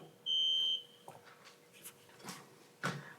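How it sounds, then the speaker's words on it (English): Electronic beep sounding from the walls of a courtroom, a single clear, sustained high tone followed by faint shuffles and room noise. "Where's that beep coming from?"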